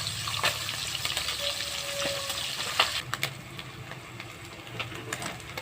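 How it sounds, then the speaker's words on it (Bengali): Tengra catfish frying in hot oil for a potato and eggplant curry, a steady sizzle and crackle throughout with a few sharper pops, close and fairly loud, no talking. "ট্যাংরা মাছটা ভেজে নিচ্ছি"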